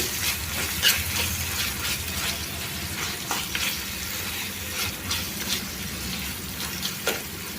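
Ginger frying in a pan for a kakarakaya tomato curry, a steady close sizzle broken by scattered crackles and stirring scrapes, with no talking.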